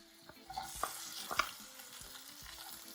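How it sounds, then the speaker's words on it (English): Onions dropped into preheated oil in a pan, giving a soft sizzle with a few sharp crackles and stirring clatters in the first half that settle into a steady low frying hiss. "I'm gonna add my onions to my oil, my preheated oil."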